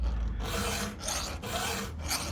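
A hand file rasps across the teeth of a badly damaged chainsaw chain in a few short, light back-and-forth strokes, close up and without talk.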